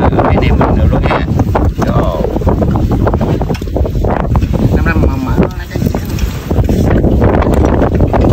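Strong sea wind buffets the microphone on a fishing boat out at sea, loud and constant roaring gusts with someone talking underneath.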